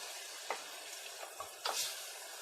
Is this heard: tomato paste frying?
yes